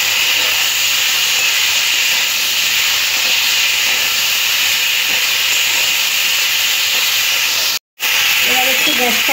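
Chopped tomatoes and peas sizzle steadily in a hot pan for a fish curry, a loud, continuous hiss that runs almost without break apart from one brief dropout near the end.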